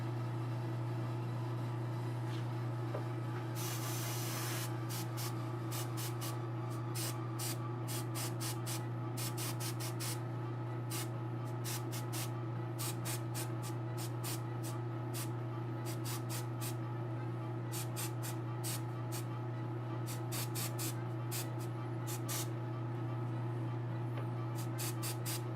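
Base coats are sprayed onto a custom figure under a constant droning hum, with repeated short bursts of hissing spray at an even pace throughout.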